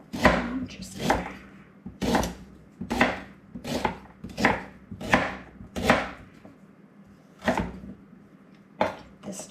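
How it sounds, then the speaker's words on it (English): Fresh ginger is chopped with a knife on a small cutting board, a steady series of about a dozen crisp, close knocks in uneven rhythm, with no talking. "get this chopped up"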